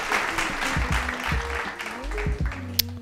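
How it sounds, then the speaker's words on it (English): A small crowd claps lightly during a build-guessing game, with voices talking over the clapping and a short sharp click near the end. "Round of applause to this person"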